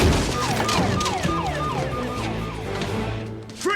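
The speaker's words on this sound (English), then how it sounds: "The problem with the police putting their sirens on" Police car sirens wail in a scene from Home Alone 3, repeated rising and falling tones over a busy mix of engine and street noise.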